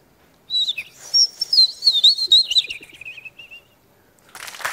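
A person whistles an imitation of a European robin's song: a thin, high, wavering warble of quick trills and slides lasting about three seconds, clear and close, followed by a short rustle.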